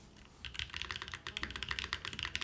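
Typing on a computer keyboard mounted on springs, a rapid run of close, crisp keystrokes clattering alone at a steady, slightly uneven rhythm.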